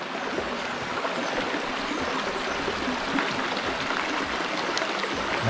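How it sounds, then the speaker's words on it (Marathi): A mountain stream flows steadily along a forest trek route near Vasota Fort, a continuous close rushing and trickling of water with no voices over it. "आपल्याला हा ओढा लागलेला आहे. पावसाळ्यामध्ये खूप जोरात पाणी येत असेल इकडनं."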